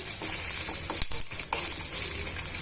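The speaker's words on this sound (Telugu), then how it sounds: "మిరపకాయలు చిట్లకుండా ఉంటాయండి ఇవన్నీ కూడా బాగా వేయించేసుకోవాలి" Green chillies and peanuts frying in oil in a pan, giving a steady, close sizzle with faint scraping and small clinks now and then, no voices.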